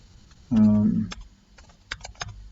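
A few quick, scattered keystrokes tap on a computer keyboard while answer choices are typed, following a short voiced sound at the start.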